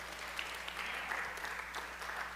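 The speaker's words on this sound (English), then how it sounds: "let's give the Lord a hand clap for just the freedom that we have here." Steady applause from a church congregation at a Sunday service, continuous hand clapping filling the room at an even level for a couple of seconds.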